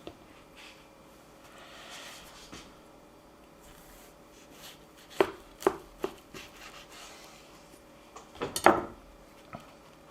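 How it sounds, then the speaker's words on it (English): Knife cutting through hot, bacon-topped baked sweet potatoes to halve them, a few sharp thuddy cuts against a board with scattered clicks, close and fairly quiet in a calm kitchen. "we're going to cut them down the center, try to halve them as best as we can"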